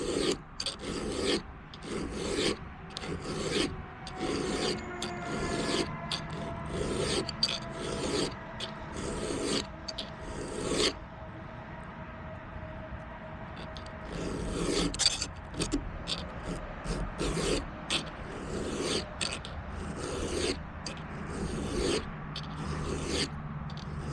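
A round hand file sharpens a chainsaw chain in repeated rhythmic rasping strokes, close and even, with a short pause midway before the steady filing resumes.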